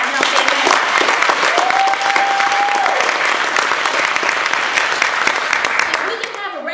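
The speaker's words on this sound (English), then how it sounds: "Let's give those clubs a round of applause before I announce their names." A room of Toastmasters club members claps steadily for the Super 7 clubs, a full, even burst of audience applause that carries on before easing slightly at the end.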